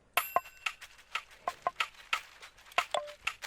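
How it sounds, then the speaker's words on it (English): Crisp percussive shaker hits tick in a loose rhythmic loop within an afropop beat, panning left to right and back, with bright metallic ring at the start. "with the shakers loop panning from the left to the right, from the right to the left."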